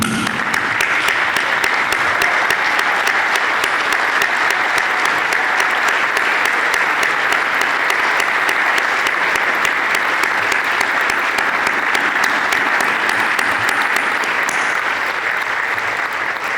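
A standing audience at a hometown heroes honoring event delivers long, loud, sustained applause, a dense, uniform roar of clapping hands that barely varies over many seconds and carries no speech.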